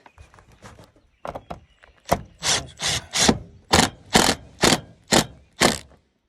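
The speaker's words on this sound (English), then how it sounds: "And then we'll screw it down, get it lined up." Screws being driven to fasten an attic vent with washers in place, heard as a run of about eight loud, evenly spaced ratcheting bursts from close by, following a stretch of lighter clicking and rubbing handling noise, with no talking.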